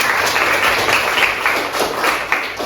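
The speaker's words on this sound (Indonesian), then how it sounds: "Kalau benar kita tepuk tangan bersama lagi ya." Classroom of schoolchildren clapping hands together in unison after a teacher's quiz answer, a loud, close, continuous burst of brisk claps.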